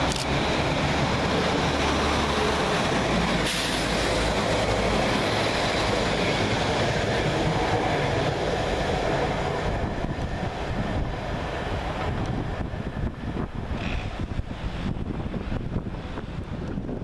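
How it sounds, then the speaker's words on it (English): A Northern Rail class 195 diesel unit passing through Deansgate station in Manchester, a loud sustained rumble and rushing roar mixed with wind buffeting on the microphone, lasting the whole stretch and easing slightly near the end. "Next to pass through the station, 195126, working 1 Charlie 52 for Northern Rail from Manchester Airport to Barrow-in-Furness via"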